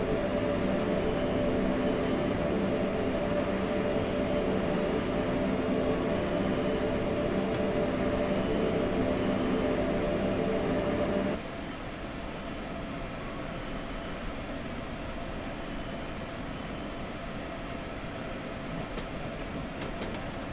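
A train runs along the Semmeringbahn mountain route between Gloggnitz and Mürzzuschlag in Train Simulator 2016, passing Klamm-Schottwien station. A steady, continuous rumble of wheels and motors that drops slightly in level partway through, with no talking.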